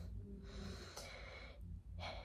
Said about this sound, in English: I'm gonna breathe in and out